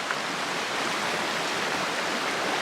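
Nacimiento Creek flows steadily along a trail, a continuous broadband rushing of water close by, even in level and uninterrupted with no voices.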